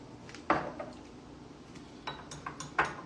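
Spicy Taco Bell sauce stirred into food in a dish, with faint sparse clinks and scrapes of a utensil against the dish, a few sharper taps standing out in a quiet room.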